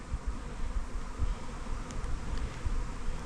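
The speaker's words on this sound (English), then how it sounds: "So two good swarms in the apiary, and I've caught them both." A honeybee swarm at an apiary fills the air with a dense, steady buzzing. Many bees hum together without a break, loud and close, and no one speaks.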